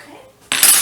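A fork is pulled from a drawer of cutlery in a home kitchen, a short bright metallic jangle and clatter that starts suddenly after a quiet moment, close and loud.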